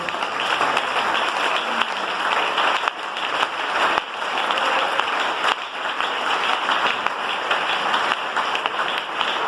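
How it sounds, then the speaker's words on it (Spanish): Sustained church congregation applause, a dense wash of many hands clapping steadily for the whole stretch with small dips and surges, loud and alone without voices. "Den ese aplauso al Señor"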